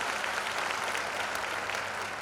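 A congregation claps in praise at a church service, with a broad, even roar of many hands that holds steady for a couple of seconds and has no speech over it.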